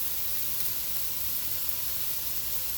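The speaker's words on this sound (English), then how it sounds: "I'm going to drop my little pieces of sausage in here" Small pieces of vegan sausage sizzle in a pan for fried rice, a steady, dense, close hiss of frying that holds level throughout with no talking over it.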